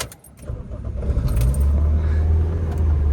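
Keys jangle and rattle in the lock of an old car parked in Zanzibar, a close metallic clinking over a steady low rumble that grows louder after the first half second.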